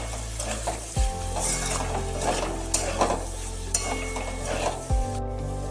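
Spices fry in a pan with ground cumin for a cauliflower and bhetki fish ghonto, giving a steady close sizzle while a spatula stirs and scrapes, with a couple of louder knocks against the pan.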